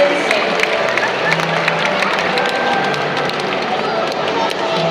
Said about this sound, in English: So let's give a moment and give them a round of applause